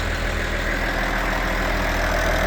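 A farm tractor's engine runs steadily at close range on a dairy farm with cows coming through, giving a continuous low, even drone with no breaks.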